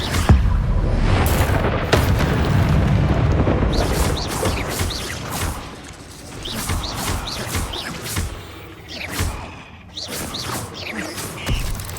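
An Incendio fire spell blast in Hogwarts Legacy, a loud rumbling burst of fiery noise at the start that trails off, followed by scattered crackles and sharp pops.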